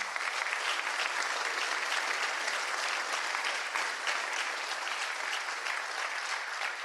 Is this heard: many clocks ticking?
no